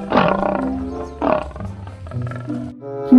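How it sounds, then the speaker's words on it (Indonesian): A toy tiger gives off a recorded roar, several loud growling bursts in sequence with rising and falling strength, close and alone without talk. "Ini hewan harimau."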